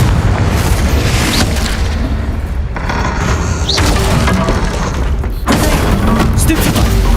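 Fire spell explosions in Hogwarts Legacy, a heavy booming blast with shattering, crackling debris that continues in loud, dense waves, with talk partly heard beneath it.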